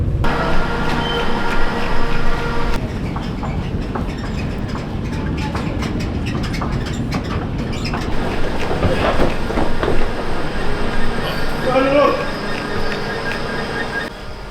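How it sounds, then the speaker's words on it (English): A train bound for London Euston rolls on the rails, a loud, steady rumble with rhythmic clacking of wheels over joints and faint squeals, heard up close throughout. "That's the train we're getting on."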